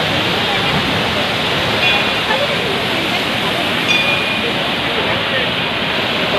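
A waterfall near Tungareshwar temple gives a loud, steady rushing roar of falling water that fills the whole stretch without a break.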